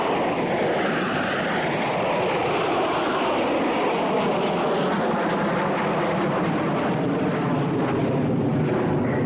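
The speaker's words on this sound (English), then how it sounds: "Beeline 476, you are cleared for takeoff." A loud airliner roars on takeoff from the runway, its broad engine noise rising and sweeping steadily for several seconds with no talking.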